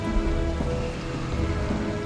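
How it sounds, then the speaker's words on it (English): Steady, dense rain patters across surfaces in a stormy ambience with a low rumble of thunder underneath, continuous and fairly loud with no voices. "We've got the thunder and rain from the storm."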